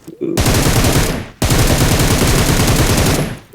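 Loud automatic gunfire from the mobile battle-royale game PUBG Mobile: two long, rapid bursts sit close and dominant, separated by a brief pause, with no one talking.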